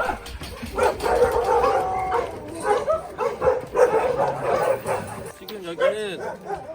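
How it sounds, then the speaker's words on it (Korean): Large dogs in the lower kennel of an animal shelter bark and yip repeatedly, close and loud, with some whimpering, while people talk over the din. "대형견들이 모여있는 아랫견사입니다"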